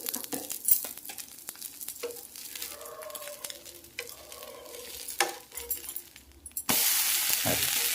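A rice dosa made from parboiled rice, urad dal, sago and flattened rice frying in oil on a pan: steady close sizzling broken by scraping clicks and clinks, then a louder, fuller hiss near the end; no talking.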